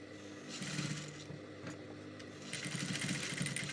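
A sewing machine back-stitches the sleeve seam of a cup-sleeve umbrella flare dress in Ankara fabric, its fast needle chatter running in short bursts at moderate volume.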